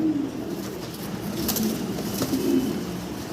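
A pair of domestic breeding pigeons coos in low, soft, rolling calls, repeated over a steady background hiss at close range.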